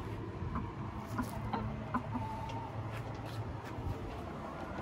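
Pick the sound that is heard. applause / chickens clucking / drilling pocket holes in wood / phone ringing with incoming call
chickens clucking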